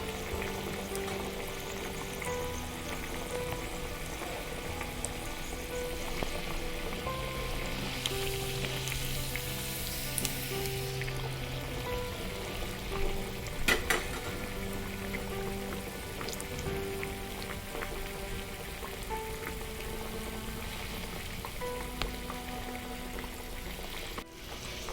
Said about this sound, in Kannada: ನಾನು ಕಡಾಯಿ ಸಣ್ಣದಿದೆ ಅಂತ ಒಂದೊಂದೇ ಬಿಡ್ತಾ ಇದ್ದೇನೆ